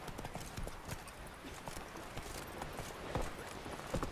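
A horse gallops in The Witcher 3, its hooves drumming in a steady, busy rhythm over a full game soundscape, with a couple of louder thuds near the end.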